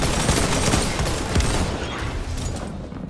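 Gunfire in the Destiny 2 video game: a rapid, continuous fusillade of shots and bursts, loud and dense at first, then thinning slightly toward the end.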